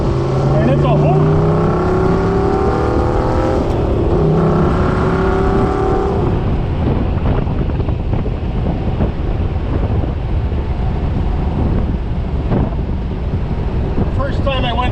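A fuel-injected 283 engine in a 1960 Chevrolet Corvette accelerates through the gears, loud rising revs with shifts over the first seconds, then steady road and wind roar.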